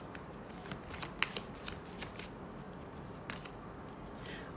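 A deck of oracle cards is shuffled close by, quiet crisp riffling and flicking sounds in a quick irregular series, with no talking.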